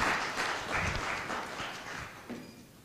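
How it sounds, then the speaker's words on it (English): An audience at a policy conference on the sharing economy gives a round of applause, a broad wash of clapping that starts strong and gradually tapers off. "Some applause, please."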